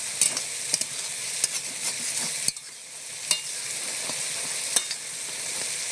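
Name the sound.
stirring taro leaves in a pan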